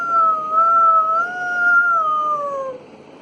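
A human voice imitating a jackal's howl, a sustained tonal wail with a slight wavering rise and a falling tail, close and clear for about three seconds.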